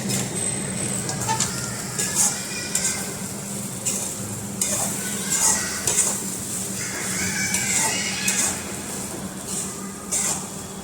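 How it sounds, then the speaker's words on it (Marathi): Sago pearls frying and being stirred in a pan, a steady loud sizzle with repeated scraping strokes of the spoon throughout, no voices. "पाच मिनटं झालेत शाबुदाना आपण थोडासा फ्राय करून घेऊयात"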